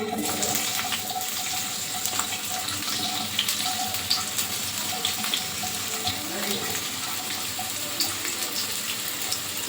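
Sliced onions frying in ghee on a high flame for egg biryani: a steady, faint sizzling hiss with small crackles throughout, continuous and close.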